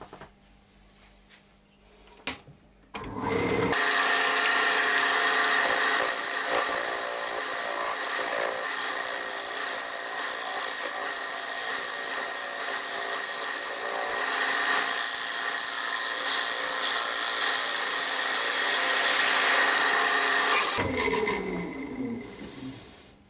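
A tulipwood lid spins on a glue chuck on a wood lathe while a tool cuts it. A loud, steady whirring, hissing grind starts abruptly, runs for about seventeen seconds and then stops, with quieter clatter before and after.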